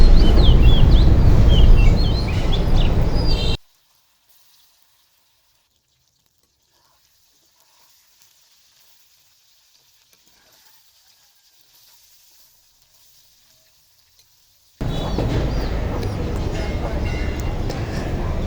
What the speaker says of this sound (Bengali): তেল গরম হয়ে গেলে একে একে সবগুলো মাছ দিয়ে নেব।